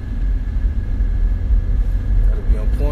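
Traffic rolls past on a busy road, a steady low rumble of car engines and tire noise. Someone talks over it, and a louder vehicle seems to pass near the end.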